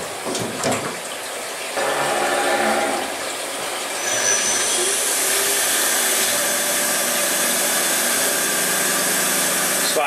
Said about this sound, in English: we're going to just chamfer these corners